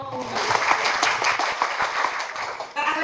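University library orientation audience of new students clapping, a moderately loud burst of many hands with distinct individual claps, a voice talking over it and a short pause near the end.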